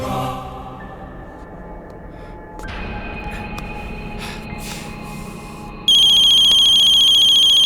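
A mobile phone rings loudly with a bright electronic ringtone that cuts in abruptly and keeps sounding, after quieter tones and background noise.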